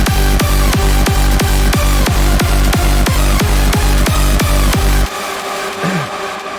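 Hardcore lead synth made in Cubase, with a hard kick drum thumping under it in a fast, steady four-on-the-floor pattern for about five seconds, loud and dense, then the beat drops out and a quieter, thinner tail with a brief pitch swoop remains.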